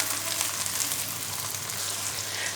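Ginger, tomato and green chillies cooking in a kadhai, a dense, even, hissing sizzle that runs steadily and close throughout, with no talk.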